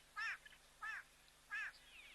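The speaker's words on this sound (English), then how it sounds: "got no idea what bird that is" An unidentified bird gives three harsh, crow-like calls at an African wildlife camera site, evenly spaced and fairly faint against a quiet outdoor background.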